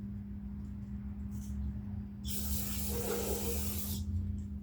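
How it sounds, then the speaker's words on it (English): Carburetor cleaner is sprayed onto a junk Geo engine in one steady hiss lasting under two seconds, close to the microphone, over a faint background hum. "Little carburetor cleaner."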